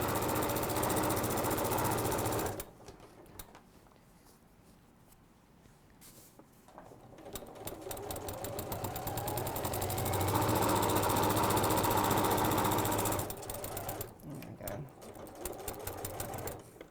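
A sewing machine stitches along the bottom seam of a fabric bag in steady rapid bursts, stopping and restarting, its mechanical whirr close and clear with no talking.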